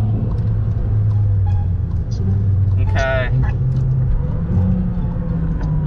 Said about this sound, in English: can you hear the car